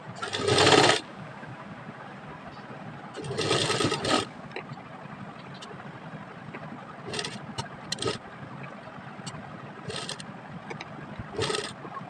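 A sewing machine stitches fabric strips onto a sleeve in two short buzzing runs, followed by quiet handling and a few brief clicks and taps nearby.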